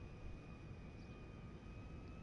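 A very large airplane's engines accelerating in the video game GTA 5, a steady broadband roar with a faint high whine, continuous and without talk.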